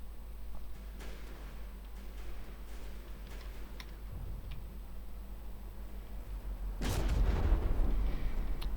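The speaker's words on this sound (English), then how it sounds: "So coffin nail still being attacked by the simple cannons." Cannon fire in a naval combat video game hits a ship as faint, scattered booms over a steady droning engine bed, with a heavier, louder burst of impacts near the end.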